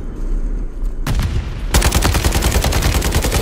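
Gunfire in Call of Duty: Modern Warfare 3 starts as scattered shots, then turns into a loud, dense burst of rapid automatic fire that runs on without pause, with no speech.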